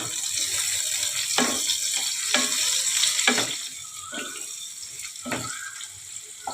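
Chopped green chillies frying in oil with chopped onion and whole cumin, a steady broad sizzle with a few sharp clunks of a spatula stirring the pan.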